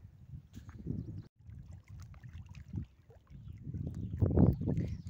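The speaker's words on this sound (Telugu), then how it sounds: "గాలి ఎక్కువ ఉంది కాబట్టి" Strong wind at the waterside during fishing, blowing in low rumbling gusts against the microphone, swelling louder toward the end with no voices.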